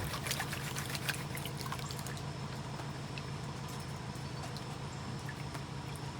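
Water trickles and splashes steadily as it washes sand and heavy black sand through the riffles of a Garrett Super Sluice gold pan at a gold mine, a continuous close wet rush with small pebbly clicks.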